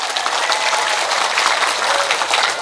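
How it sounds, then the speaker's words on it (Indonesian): Audience at a large Islamic religious gathering applauding, dense continuous clapping from many hands at steady loudness. "Tepuk tangan sik kok"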